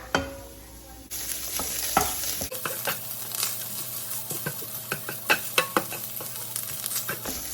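Minced pork stir-frying in a hot pan for Thai basil pork, a loud steady sizzle with repeated clicks and scrapes of a spatula stirring the meat, no talking.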